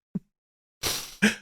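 A single sneeze bursts out on a podcast, a short breathy intake followed by two sharp explosive bursts, close and loud against near silence.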